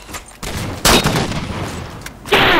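Sniper gunfire in Halo 4 comes as loud, sharp bursts of shots in a brief multiplayer exchange, with a hard crack near the start and another at the end.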